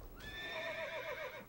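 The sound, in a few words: horse neighing in World of Warcraft video game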